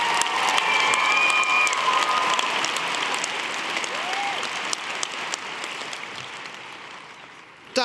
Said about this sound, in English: We now invite your applause for the Sociology graduates.